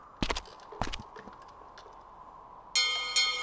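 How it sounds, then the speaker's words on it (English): A bell rings inside the 1998 video game The Journeyman Project 3: Legacy of Time, with two sharp struck tones early on and then a bright, sustained metallic ring that swells twice near the end. "Ring that bell."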